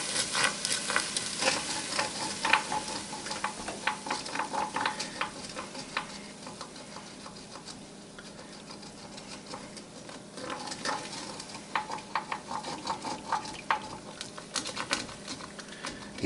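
Metal utensil scraping browned steak bits off a hot pan while deglazing for an Italian-American steak pizzaiola sauce, a steady sizzle under repeated close scrapes and taps, no talk.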